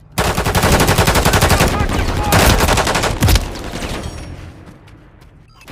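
Loud, rapid automatic gunfire rattles in dense bursts through a tense video game firefight, with a heavy blast near the middle before the shooting thins out into scattered shots at the end.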